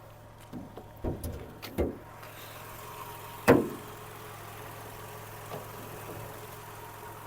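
A Skoda Octavia A5 1.6 engine idles on LPG, steadily at low pitch, a continuous hum with a few brief clunks and a sharp knock partway through.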